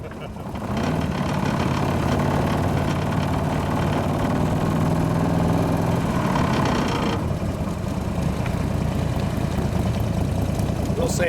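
A 2015 Morgan 3 Wheeler idles loudly and close, a deep rough rumbling engine note that holds steady, dips briefly partway through and then settles again, with no talking over it.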